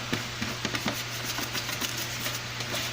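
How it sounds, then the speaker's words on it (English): Toilet scrubber brush scrubbing the bottom of a DWC hydroponic container, quick repeated scratchy rubbing strokes in an irregular rhythm over a constant low hum, close up, with no talking. "just take our little toilet scrubber tool here, just kind of scrub the bottoms"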